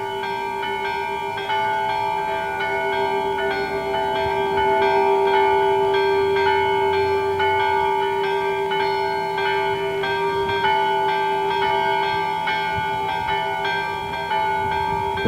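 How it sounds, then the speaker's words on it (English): Mission church bells pealing steadily in a long, continuous ring, sustained tones overlapping with repeated strikes, moderately loud and without talk. "The mission bells continue to peal."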